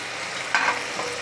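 Potatoes tipped into a pan of frying beans bring a brief burst of louder sizzling and scraping over a steady frying hiss.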